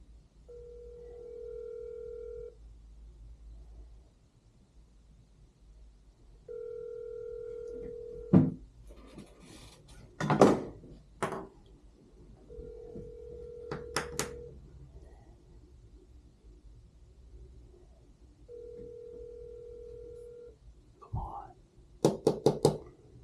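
An outgoing phone call rings repeatedly, each steady tone burst separated by a pause, while someone talks quietly between the rings and clicks and bumps sound nearby.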